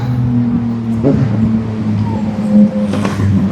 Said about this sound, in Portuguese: eu não sei a graça que a pessoa vem andar numa moto com uma barulhada dessa